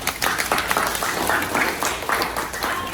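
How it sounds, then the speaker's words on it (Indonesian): Schoolchildren in an Indonesian classroom give a group presentation a round of applause, a brisk, busy patter of many hands clapping at once throughout. "Tepuk tangan"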